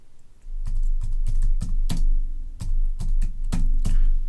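Keystrokes on a computer keyboard while a comment is typed: a steady series of sharp clicks in an irregular rhythm, close and fairly loud over a low background hum, with no speech.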